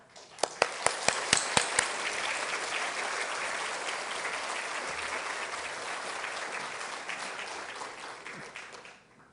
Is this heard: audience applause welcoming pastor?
yes